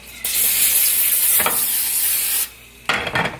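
Olive oil sizzles loudly in a frying pan during breakfast meal prep, a steady close hiss that dips briefly, drops out for a moment near the end, then returns in crackling spurts.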